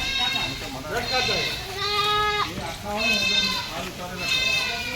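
Goats at the Dahod panjrapole animal shelter bleat loudly and close by, in long, wavering cries that overlap and repeat steadily. A few quieter animal calls sound beneath them.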